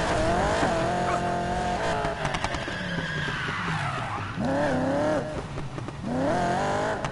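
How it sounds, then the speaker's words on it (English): A Corvette drag racing in Need for Speed, its engine revving loud and close with rising and falling pitch through gear changes and a brief tire squeal, continuous throughout. "I like drag racing in this Corvette"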